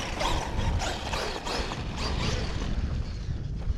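A Traxxas Maxx Slash RC truck drives outdoors, its motor whine and rough rumble blending with gusty wind noise, moderately close and continuous without speech.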